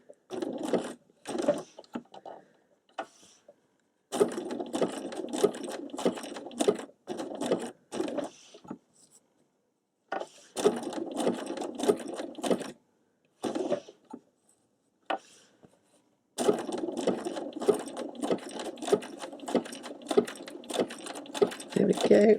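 A sewing machine stitches satin stitch tulip embroidery in repeated bursts of rapid mechanical clatter separated by short silences, with a voice talking quietly between runs.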